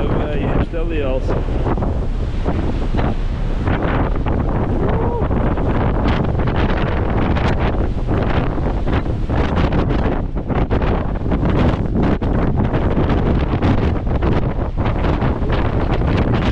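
Strong wind at sea aboard a ship roars loudly and without letup, heavy buffeting on the microphone mixed with rushing water and spray, a dense, saturated wash of noise from start to finish.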